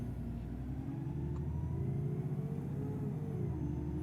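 An Alexander Dennis E400 bus engine runs in the OMSI 2 driving simulator, a steady low rumble that swells slightly as it pulls away, continuous and fairly quiet.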